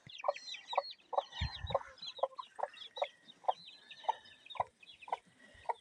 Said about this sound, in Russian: Цып мои цыплятки, цып-цып-цып мои козлятки.